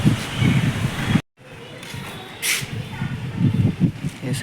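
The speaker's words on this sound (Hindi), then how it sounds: "हवा चल रही है बहुत तेज़।" Strong wind gusting across a rooftop in a steady broadband roar, rising and falling, with a brief dropout partway through and some speech-like murmur in the background.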